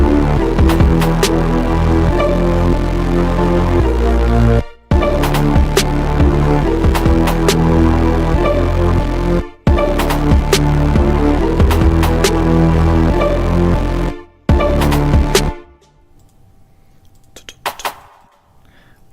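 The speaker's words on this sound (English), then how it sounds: "I want to go into the kick drum pattern, into the effects, and I want to distort the crap out of it. Decapitator." A trap kick drum pattern heavily distorted with a Decapitator saturation plugin pounds loud and dense in a repeating loop, cutting out briefly three times before dropping to a faint, sparse tail.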